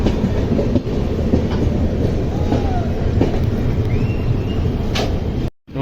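A passenger train rolls past on the Chennai to Bengaluru line, close and loud, with continuous wheel rumble, rhythmic clickety-clack over rail joints and a faint squeal, ending in a sudden brief dropout.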